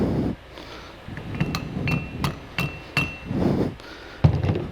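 Roll pin tapped into a valve handle shaft, a series of about six sharp metallic taps and clinks at uneven spacing, close and distinct over a low background hum.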